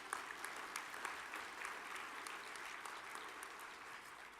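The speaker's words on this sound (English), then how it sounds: "give a special round of applause for all they've pulled together to make this happen too" Sustained applause from a sizable conference audience at a tornado summit general session, quiet and somewhat distant, with individual claps popping out of a steady rustling wash.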